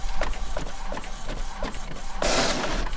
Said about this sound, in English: So here comes the print. Low maintenance on this printer. It is an eco tank